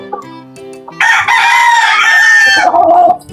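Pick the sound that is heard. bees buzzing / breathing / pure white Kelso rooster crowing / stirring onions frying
pure white Kelso rooster crowing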